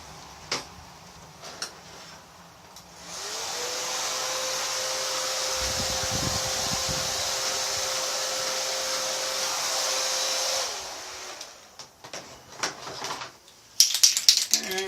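An aerosol spray can hisses steadily for about seven seconds, laying a coat of paint on an RC car body outdoors, framed by scattered clicks and handling noises before and after, with no speech.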